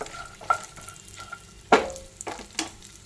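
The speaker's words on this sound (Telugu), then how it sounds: "స్లో ఫ్లేమ్లో పెట్టుకొని వేపుకోవాలి" Vermicelli fries in a pan over a slow flame, giving a soft sizzle broken by a few sharp stirring clatters and scrapes. The sounds are close and intermittent and no one speaks.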